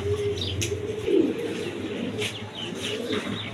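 Pigeons coo softly nearby, with low burbling calls and a few brief chirps over a quiet background, no voices present.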